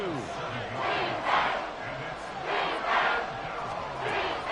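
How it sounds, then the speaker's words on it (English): Loud football stadium crowd cheering and roaring, rising in repeated waves during a game, with faint talk mixed under the sustained noise. "Well, this crowd into it now."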